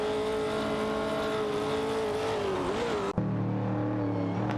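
Race car engines in a racing video game, featuring a Porsche 906 and an Opel Commodore. They drone at high revs, with one pitch sliding as it shifts, then cut abruptly to a lower, steady engine hum.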